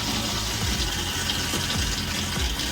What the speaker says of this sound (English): we're going to run the toilet